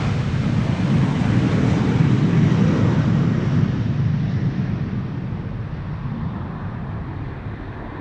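Loud, steady broadband jet roar from a KLM Cityhopper Embraer 190 departing Amsterdam Schiphol, a continuous rumble that slowly fades as the aircraft climbs away, with no talk.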